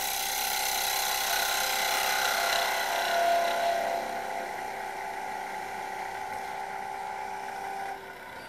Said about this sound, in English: So with the head handle to the right, shearing through the fibres of the timber